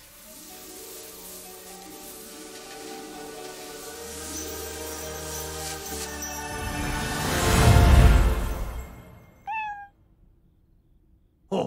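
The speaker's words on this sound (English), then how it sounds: "Oh, it's a cat!" A cartoon cat meows in an animated monster-pet short, a building growl-like yowl swelling loudly before a couple of brief, sharp meows near the end.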